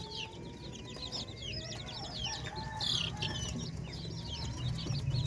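Young chicks clucking and peeping in a brood pen, a busy overlapping chorus of chirps and soft clucks at moderate distance, continuous and without voices.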